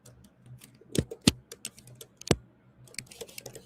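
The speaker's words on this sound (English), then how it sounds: "Sorry about the typing there" Typing on a computer keyboard, a quiet and irregular run of clicks and taps with a few louder key strikes, close by and heard without any talk.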